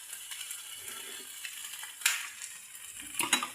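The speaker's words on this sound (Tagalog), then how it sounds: "Niluluto kong langka." Jackfruit simmering in coconut milk in a pot crackles softly while a spoon scrapes and stirs, with a few louder clanks and scrapes toward the end.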